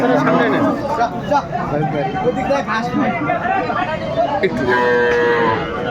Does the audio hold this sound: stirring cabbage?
no